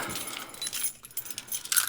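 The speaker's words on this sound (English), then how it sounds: "I took a just a little small carabiner and clipped my keys to that" Keys clipped to a small carabiner on a Deep 9 Design Maxx1 bag jangle in short metallic bursts, close and clear, with no talking.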